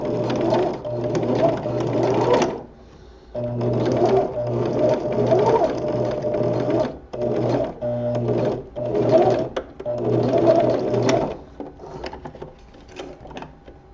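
A sewing machine stitches spandex gloves, running in steady bursts of rapid mechanical whirring with a low motor hum, pausing briefly between runs, close and loud with no talk.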